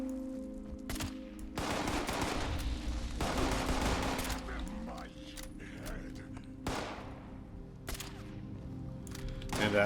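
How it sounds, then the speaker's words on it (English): Automated turrets firing in the Fallout 76 video game, loud bursts of rapid shots that stop and start in several clusters, with a few single sharp cracks in between. "they've got turrets working here"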